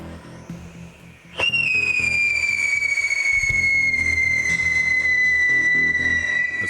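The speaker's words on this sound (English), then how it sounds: "This causes the tube to vibrate and you get the whistle sound." After a faint bang, a loud, piercing firework whistle starts abruptly and holds a steady, slowly falling shriek for several seconds.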